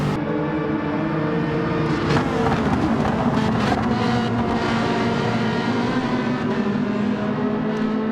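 A Ferrari race car engine in the video game Gran Turismo 7 drones steadily through a race, a sustained mid-pitched roar with slight pitch shifts, loud and continuous from start to finish.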